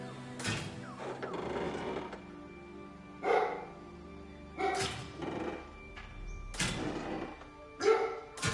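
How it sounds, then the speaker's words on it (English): A real dog barks in repeated sharp bursts spaced a second or two apart, fairly close and loud, with low background sounds in between. "When will my dog ever shut up?"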